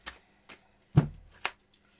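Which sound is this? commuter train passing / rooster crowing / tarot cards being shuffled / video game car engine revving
tarot cards being shuffled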